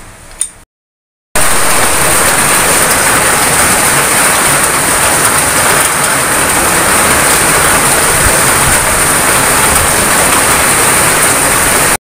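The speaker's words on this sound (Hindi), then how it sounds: "अभी जिस तरह बारिश रुक ही नहीं रही।" Heavy monsoon rain pours in a dense, loud, unbroken hiss for about ten seconds after a short quiet opening, with no voices over it.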